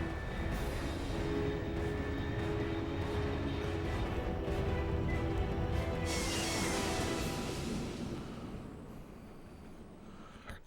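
Fast aircraft passing overhead in the stealth action game Metal Gear Solid 3, a loud continuous roar that swells and then fades away toward the end, with no talk over it.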